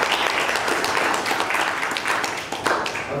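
Clapping from a class of students for a history lesson presentation, dense and steady for the whole stretch, with a few faint voices mixed in.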